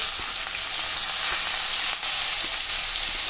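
Cinnamon, cloves and onions frying in oil in a pan for meal maker masala curry, a loud continuous hissing sizzle with occasional faint stirring taps, close and steady throughout.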